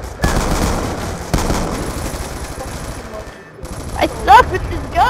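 Rapid bursts of automatic gunfire from a gun in Black Ops 2 on the Nuketown map, loud and close, with a brief gap before more shots, while players talk over it.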